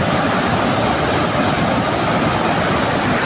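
The falls where David Livingstone stands roar in a dense, loud, unbroken rush of falling water, steady and close.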